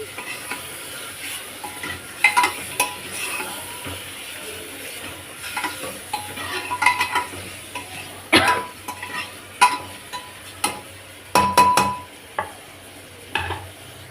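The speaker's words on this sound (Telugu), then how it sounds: "మటన్ వేసాను ఇప్పుడు ఒకసారి మిక్స్ చేసుకుందాం" Mutton being stirred into a masala base for gongura mutton curry in a hot pan, with steady sizzling broken by sharp, irregular scraping and clanking strokes of the spoon that grow more frequent toward the end.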